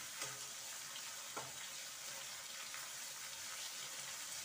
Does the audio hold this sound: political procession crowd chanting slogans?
no